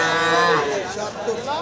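Cattle at a rural livestock market in Thakurgaon, a close, drawn-out low moo with wavering tone, lasting over a second.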